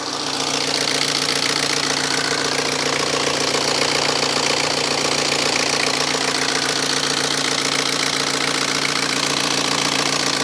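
A BMW engine idles steadily just after being started, a continuous close mechanical drone with a light knocking texture running unbroken throughout, no talking.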